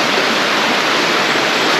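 A river fed by Naglahaw Falls rushes loudly and constantly beside a free campsite, a dense, close roar of flowing water with no pauses or voices.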